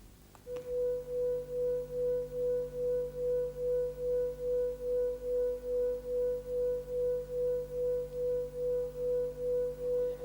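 Two pure tones at slightly different frequencies sound together as one steady hum that swells and fades in a regular beating rhythm, about two pulses per second, alone and clear for about ten seconds after a brief click.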